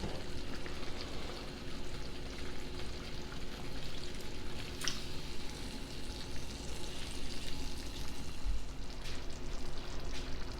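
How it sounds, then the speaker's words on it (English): Chili colorado, pork in a thick red chile sauce, simmers in a pot with a steady, soft bubbling and sizzle that holds evenly throughout, with no voices. "here's the chili Colorado cooking"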